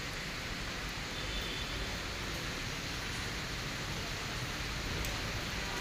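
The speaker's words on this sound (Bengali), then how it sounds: "সেই সাথে প্রচুর বৃষ্টিও হচ্ছে।" Heavy rain pours steadily at night while wind gusts through it, a dense unbroken hiss with no voices.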